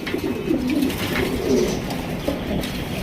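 Several Indian Bombay pigeons coo continuously nearby, their throaty, warbling calls overlapping against a steady background hiss.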